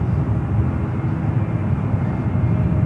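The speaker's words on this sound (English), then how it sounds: "Moxie, Breeze, Airbus A220-300 up next for arrival." A Breeze Airways Airbus A220-300 arrives at San Francisco airport, heard as a steady low rumble of jet engine noise that holds constant throughout, with no voices.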